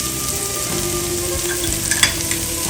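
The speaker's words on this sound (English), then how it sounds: "And the onions go in first. We'll saute them." Onions sauté in a hot pan, a steady close sizzle with a brief scrape or stir near the end and no voices.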